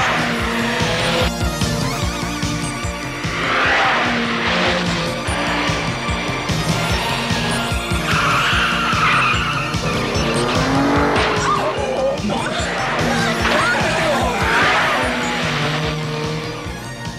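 An anime car chase through a park brings a car driven hard, its engine roaring loudly throughout with repeated tire squeals and skids, backed by dramatic music and no audible speech.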